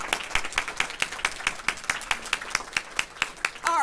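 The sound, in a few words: audience clapping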